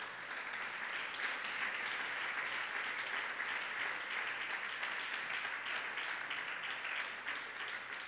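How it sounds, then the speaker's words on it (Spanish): A Sunday church congregation gives sustained applause, a dense, even roar of many hands clapping that holds steady from start to finish without any talk. "Un aplauso para Cristo."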